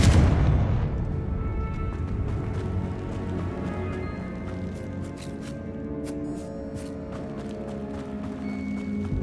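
A fire-blast spell in Hogwarts Legacy goes off in the catacombs with a heavy booming impact, followed by a long ringing rumble and scattered clattering debris that gradually settles.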